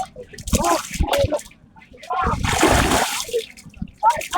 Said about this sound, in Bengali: এখন আমি ডুব দিব